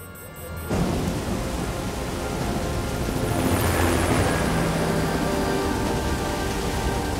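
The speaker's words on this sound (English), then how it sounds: "They're headed right into the storm." Thunderstorm in a disaster film scene: heavy, steady rain with rolling thunder and a deep low rumble, starting abruptly after a brief lead-in and continuing loud and dense throughout.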